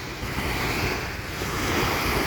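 Sea waves washing ashore at Mercato Beach in Jumeirah, Dubai, a loud, continuous rushing surf mixed with wind buffeting the microphone, close and steady with no talk.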